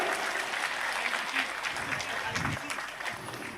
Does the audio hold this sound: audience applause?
yes